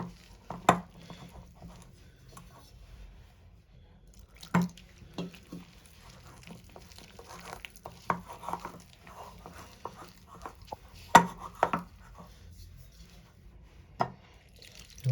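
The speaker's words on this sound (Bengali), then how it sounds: "অল্প অল্প জল দিয়ে দিয়ে আমি মাখতে থাকবো" Egg paratha dough is mixed by hand in a bowl as water is added little by little, giving soft wet squishing and stirring under scattered sharp clinks of a utensil against the bowl, fairly quiet and close, with no speech.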